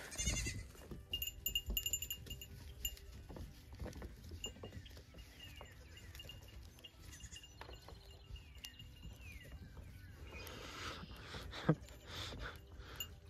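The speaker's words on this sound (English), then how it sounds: "Baby Snickers is the other one that is quite noisy." Baby goats bleating on a farm near a barn, scattered faint-to-moderate calls over several seconds with soft rustling and background noise, no speech.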